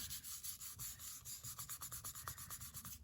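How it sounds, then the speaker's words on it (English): Twine being rubbed by hand onto a wooden cross coated in Mod Podge, making soft, steady rhythmic scrubbing strokes close up, with no talking. "rub this to try and keep there from being wrinkles"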